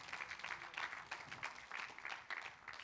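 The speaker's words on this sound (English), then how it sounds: "Clap your hands to him for a moment." A church congregation claps their hands together, a soft, fairly distant patter of applause that continues steadily without speech.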